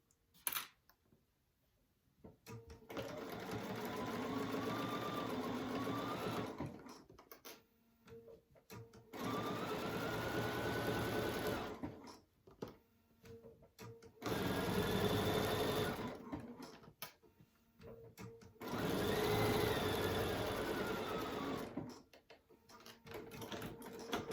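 A sewing machine stitching a crochet needle case, running in several steady whirring bursts of a few seconds each, close and alone, with short quiet gaps between runs.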